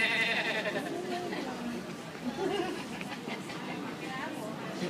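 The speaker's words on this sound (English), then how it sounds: "It's a goat." Goat bleating at a farm, wavering cries mixed into steady background chatter and people talking nearby.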